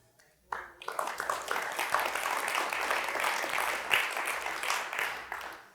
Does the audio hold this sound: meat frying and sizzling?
no